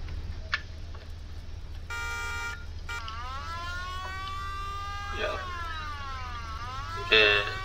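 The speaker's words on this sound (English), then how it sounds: "This is a police car." A police car siren in Garry's Mod wails in rising and falling sweeps over a steady low engine drone, with a short electronic yelp partway through and a brief loud burst near the end.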